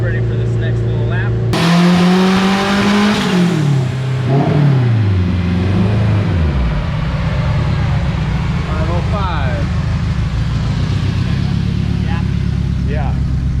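A race car's engine revs and accelerates through a lap, loud and close, with pitch rising and falling across gear changes before settling into a steady drone, and voices talk over it.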